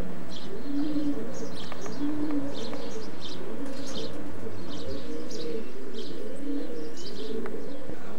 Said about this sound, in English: lovely cock, beautiful eyed pigeon, isn't he?